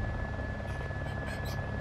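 Helicopter in the video game DayZ Epoch: a continuous, fairly loud rotor drone and whine filling the whole stretch, steady and close.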